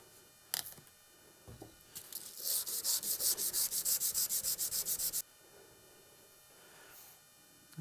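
Damascus steel chef's knife being hand-sanded at 220 grit, a brief scrape followed by a run of about a dozen quick rhythmic rasping strokes, close and fairly loud, then quiet.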